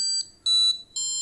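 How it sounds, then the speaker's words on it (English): Three short electronic beeps from a Google TV Streamer 4K voice remote during a factory reset countdown, evenly spaced, each a bright high-pitched tone with a brief pause between, close and clear. "And we will hear a countdown sound like this."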